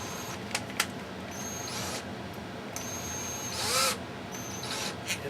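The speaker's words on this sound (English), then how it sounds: "Then I take my electric drill" An electric drill twisting the wire trunk of a model railroad tree clamped in a vise, giving short whirring bursts that start and stop with brief gaps, plus one longer rising spin.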